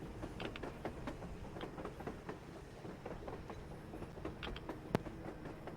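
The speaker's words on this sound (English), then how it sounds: "A train! A damn train on the surface!" A train rolls past on the surface in Metro Exodus, with steady rumble and rhythmic clickety-clack wheel clicks, one sharp metallic clank near the end, moderately loud and continuous with no talk.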